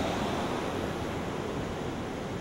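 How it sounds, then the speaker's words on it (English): Englishman River waterfalls send out a steady, close, full roar of rushing water that stays even and loud throughout, with no voices over it. "Englishman River waterfalls."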